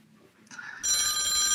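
A telephone bell, one short burst of bright ringing that begins abruptly after a brief quiet lead-in.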